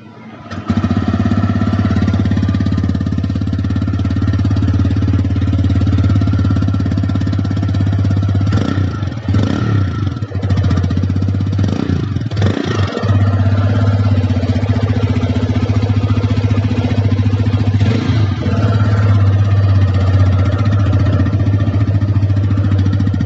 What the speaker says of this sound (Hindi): एक बार राइडर का एग्जॉस्ट साउंड हम लोग देख लेते हैं